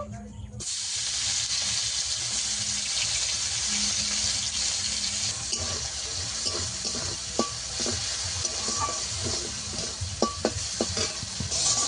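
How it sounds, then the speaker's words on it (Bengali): Prawns coated in salt and turmeric fry in a pan with a steady, loud sizzle and hiss that lasts throughout, with a few small clinks and stirring noises later on. "লবণ হলুদ দেওয়া চিংড়ি মাছটাকে, এবার ভেজে নেব"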